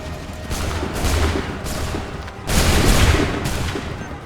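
A gunfire volley in Assassin's Creed III, with dense, loud rolling musket fire in two broad surges and sustained noisy crackle throughout, close and heavy.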